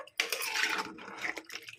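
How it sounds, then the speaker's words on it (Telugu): Water poured into a pot of thalakaya curry (goat head curry) with tamarind, a close splashing rush broken by a brief pause and short clinks of metal, with no voices. "వాటర్ కూడా పోసుకుంటున్నాండి."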